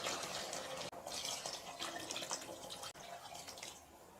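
Water poured into chicken biryani with basmati rice in a pressure cooker, a steady close splashing pour running almost without pause, briefly breaking twice.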